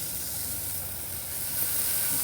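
Half-pound burgers searing on a Masterbuilt gravity-series charcoal grill, a continuous close hissing sizzle that stays steady and swells slightly near the end, with no talking.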